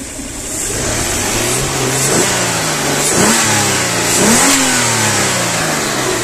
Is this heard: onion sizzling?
no